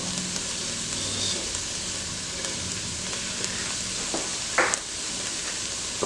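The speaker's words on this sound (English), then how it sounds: "cook this garlic out for about a minute, minute and a half is really all you need" Garlic sizzles steadily in a hot pan for tomato basil bisque, a continuous close frying hiss with faint stirring scrapes and a brief clatter near the end, no talking.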